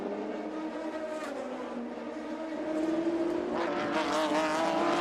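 Le Mans race car engines at the 2020 Lone Star Le Mans FIA WEC race, a sustained whining drone that swells louder as cars close in, heard beneath a commentator's voice.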